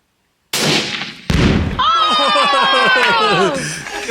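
A single sharp gunshot cracks out on a range after silence, followed by a second burst, then a tonal ringing sweep lingers for a couple of seconds.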